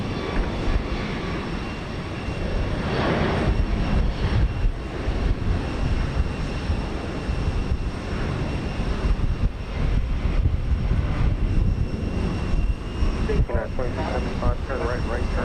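Jet roar from an airliner taking off on runway 15 right at Houston Intercontinental fills the whole stretch, broad and steady and heard from a distance. A brief voice surfaces near the end.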